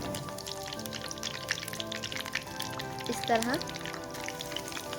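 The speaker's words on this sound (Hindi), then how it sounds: "ऑयल हमारा गर्म हो गया। अब हम फिश को फ्राई करेंगे" Fish for crispy zinger fried fish frying in hot oil in a pan over a medium-low flame, giving a steady, dense sizzle throughout, with a short spoken phrase over it.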